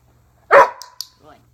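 A person's voice imitates a single sharp dog bark, used as a 'speak' command cue: one loud woof-like burst, then a couple of faint, short trailing noises and near silence.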